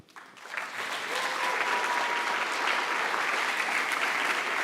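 A concert audience gives school jazz bands a big round of applause, the clapping swelling quickly from a quiet start into a dense, steady roar of many hands that keeps going to the end.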